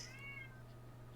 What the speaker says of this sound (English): She's doing the thing where she's like sitting there and meowing